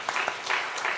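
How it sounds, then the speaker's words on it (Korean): A church congregation claps briefly during a sermon, a dense burst of many hands filling the room for about a second. "박수 한번 할까요?"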